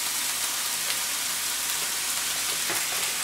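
Ground turkey hits a hot frying pan and sizzles steadily, a loud, dense hiss of frying meat that continues unbroken throughout, with no talking over it.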